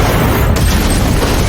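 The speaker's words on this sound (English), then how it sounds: "there was suddenly a huge explosion that devoured the entire police station" A massive film explosion tears through a police station, a loud, sustained roar of rumbling blast that saturates everything, with a sharp crack near the start.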